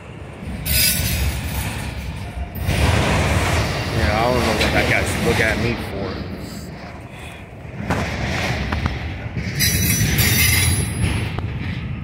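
A Union Pacific freight auto rack train rumbles past close by in Sacramento, California, wheels clattering and squealing loudly, with bursts of wind noise and brief voices mixed in.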